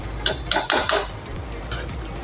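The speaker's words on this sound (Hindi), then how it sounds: "ये आलू मैंने कट कर लिए थे, ये आलू हम इसमें ऐड कर देंगे।" Cut potatoes tumble into a metal pan in a few quick clattering knocks close to the mic, followed by a softer scrape near the end.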